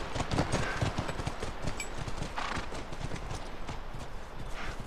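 Horse hooves clip-clop in The Last of Us video game, a quick, steady rhythm of close hoofbeats that continues throughout at a moderate level.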